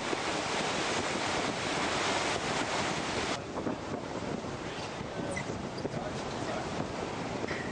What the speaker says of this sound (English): Now looking down at the bow wave cutting through the water.